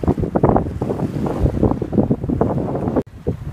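Strong wind buffets the microphone aboard an Island Packet L24 electric sailboat cruising Tampa Bay, with choppy waves slapping the hull, loud and steady for a few seconds before a brief drop near the end.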